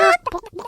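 A chicken clucks: one loud, drawn-out squawk, then a quick run of short, choppy clucks, close and on its own.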